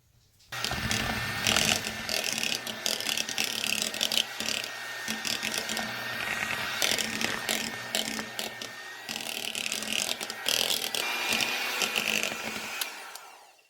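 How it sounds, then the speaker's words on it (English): Electric hand mixer whirs steadily through deviled egg filling of mashed egg yolks, a continuous loud motorized drone with scraping texture running alone for about twelve seconds before cutting off. "Now using my mixer, I'm going to continue to mix this until everything's well combined."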